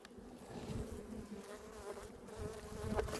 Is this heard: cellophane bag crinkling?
no